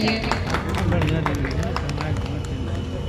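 Guests at the grand inauguration of a fourth Jawed Habib salon branch in Bhagalpur clap in a dense, lively burst of applause mixed with crowd chatter and a voice talking over it.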